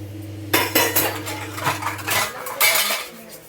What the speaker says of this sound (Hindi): मैं बर्तन मांजूँगी